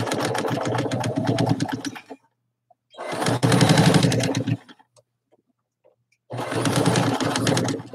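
A sewing machine stitches the back seam of a sewn piece in three loud, close bursts of rapid needle chatter. Each burst lasts one to two seconds and they are separated by silent pauses.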